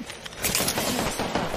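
Rapid bursts of gunfire in a squad-based shooter video game, a quick clattering volley of loud shots lasting under two seconds with no talking.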